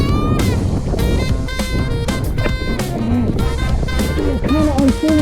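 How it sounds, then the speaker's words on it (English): Strong wind roars steadily across the microphone while riding a parawing with a harness on open water, loud and constant, with splashing and brief tonal whistles layered throughout. "Got a lot of wind right now"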